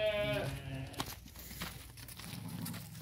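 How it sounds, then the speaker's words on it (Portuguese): Sheep bleat among a lot of eleven large ewes on a farm, one clear wavering bleat at the start followed by quieter shuffling and faint animal sounds. "11 ovelhas grandes aqui, ó"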